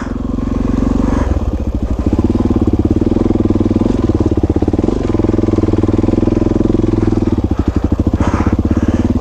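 Dual-sport motorcycle engine runs loud and close on a trail, a steady pulsing thump with a few revs, continuous throughout.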